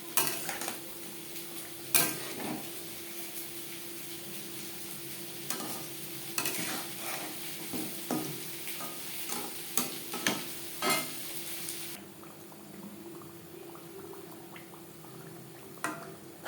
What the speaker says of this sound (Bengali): এভাবে লো ফ্লেমে ক্রিস্পি করে ভেজে নেব।